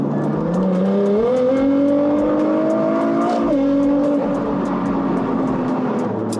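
A Litchfield-tuned Nissan GT-R R35 Nismo, a 757 bhp track-spec car, accelerates hard, its engine note rising then dropping sharply at quick gear shifts, loud and close from inside the cabin, with no talking.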